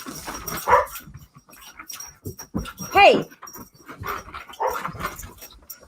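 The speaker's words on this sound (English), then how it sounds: "I'm having like a dog and cat fight in my dining room" A dog barks and whimpers while scuffling with a cat in a dining room, giving sharp yelps, whines and panting in bursts, heard under someone talking.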